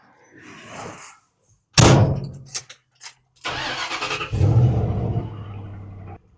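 A 1969 Ford F100 pickup: a door slams and a few clicks follow, then the engine cranks, catches and settles into a close, steady idle.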